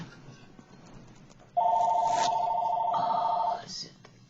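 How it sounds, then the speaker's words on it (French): A telephone rings in one steady electronic trill lasting about two seconds, loud and close, over a quiet room background. "Le téléphone, les cloches qui sonnent dehors."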